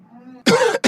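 A single person coughs: two sharp, close, loud coughs, after a faint hum at the start.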